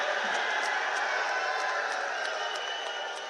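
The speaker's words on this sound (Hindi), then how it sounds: "राम स्वरूप जी के लिए ताली बजाओ सभी लोग" A crowd at a political public meeting in Nasirabad, Ajmer, Rajasthan, where Amit Shah is speaking, claps and cheers in a dense, steady roar that carries through the whole stretch, loud and close, with no single voice standing out.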